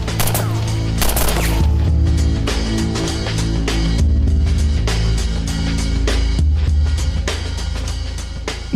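Rapid bursts of gunfire from automatic weapons crackle in a TV series action scene, loud and dense, with repeated rattling volleys and sharp individual shots across the whole stretch.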